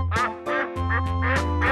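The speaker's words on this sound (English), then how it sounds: "Duck, duck." Loud, nasal duck quacks repeat in a steady run of about six calls, close and clear with no talking.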